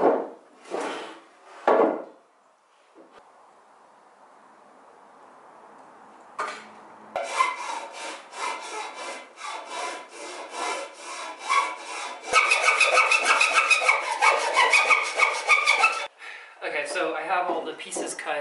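A hand saw cuts through a wooden plank for a wood and PVC skate box, with steady rhythmic rasping strokes growing faster and louder, after someone speaks briefly at the start.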